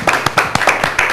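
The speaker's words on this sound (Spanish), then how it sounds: "Un fuerte aplauso." A television studio audience claps in sharp, separate, fairly close hand claps at a quick uneven rhythm, loud and dry, with no talk over them.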